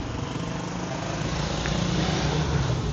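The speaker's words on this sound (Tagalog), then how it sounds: "Grady muffler. Chamber muffler. Stainless." Steady, loud exhaust drone from a Mitsubishi Lancer running through a stainless Grady chamber muffler, a continuous low rumble that holds even throughout with no talk over it.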